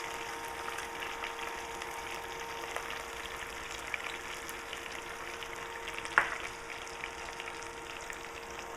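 Dry red chilies fry in hot oil for a Sri Lankan dahl tadka, giving a faint, steady sizzle with a few soft clinks, quiet and close.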